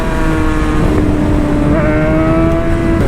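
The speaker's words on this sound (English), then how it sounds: "go-kart's trying to race me." A go-kart engine races close by with a steady, droning buzz whose pitch climbs slightly toward the end, holding loud and continuous throughout with no talk.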